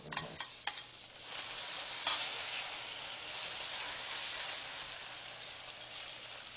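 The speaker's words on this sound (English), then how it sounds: "You can hear it bubbling and sizzling." A few sharp taps at the start, then a steady, soft sizzling hiss of an egg frying in a pan on an induction cooktop, continuing evenly without speech.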